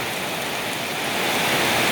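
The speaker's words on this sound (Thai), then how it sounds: "ฝนตกหนักมากครับ" Heavy rain pours down on a rainy workday near green rice paddies, a dense, steady hiss that fills the whole space close by, with no voices over it.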